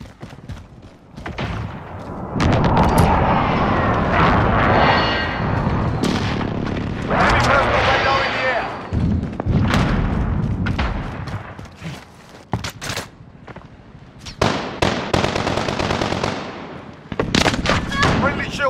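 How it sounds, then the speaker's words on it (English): A friendly precision airstrike in Call of Duty: Modern Warfare sets off a long run of loud, booming explosions and rumbling blasts. Bursts of crackling detonations fade and return, with radio-style voices speaking now and then over the barrage. "Be advised, friendly precision airstrike inbound."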